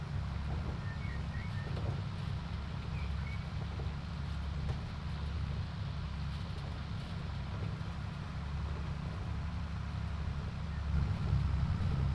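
Tractor engine in Farming Simulator 22 drones steadily throughout as it drives across a hay field, a low constant rumble heard from the cab, fairly quiet and even.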